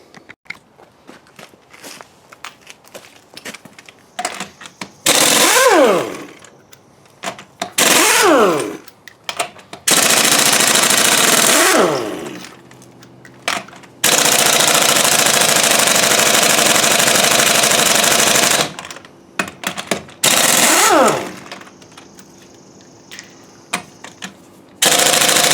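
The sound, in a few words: portable Sawzall reciprocating saw cutting leaf spring on Dodge Ram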